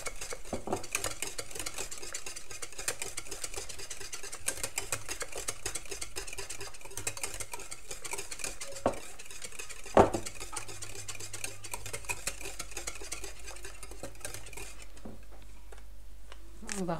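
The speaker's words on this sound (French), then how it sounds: "Voilà, on mélange bien." A spoon stirs coconut cake batter in a pot, giving a long run of soft, rapid scraping and clicking strokes close by, with an occasional sharper knock against the side.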